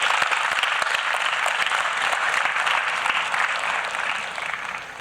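Audience at a TEDx talk gives sustained, dense applause that stays strong throughout, then gradually thins and fades toward the end.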